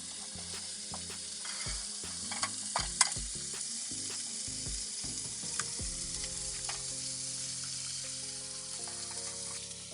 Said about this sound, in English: Crack open an egg.